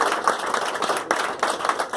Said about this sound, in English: you can applaud for a bit, then I'll talk about it